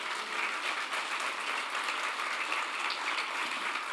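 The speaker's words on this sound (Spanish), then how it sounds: "Denle un aplauso al Señor" A church congregation claps for the Lord in a steady, dense burst of applause lasting the whole stretch, even and moderately loud without pauses.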